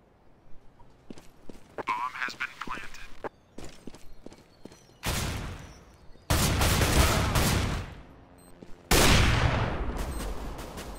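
Long, loud bursts of automatic gunfire ring out during a competitive Counter-Strike: Global Offensive match on Dust2, with sharp single shots and clicks leading into them.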